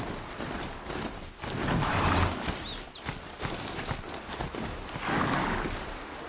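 Hoofbeats of a riding mount in Horizon Zero Dawn, a steady clip-clop gallop at close range with swells of louder rumbling, continuous throughout.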